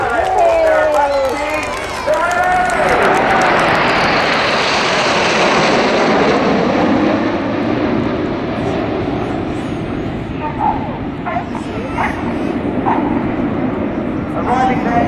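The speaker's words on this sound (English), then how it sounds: "the jets were around 20 feet apart, 400 miles an hour" RAF display jets at the 2014 Cosford Airshow roar overhead in a loud, broad rush that swells and then slowly fades into a distant rumble, with a commentator's voice over the opening seconds.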